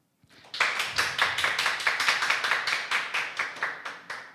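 Audience claps for a presenter at a single-parent self-help group results session, a steady rhythmic unison clapping of many hands, loud and close, beating evenly about three times a second after a brief quiet start.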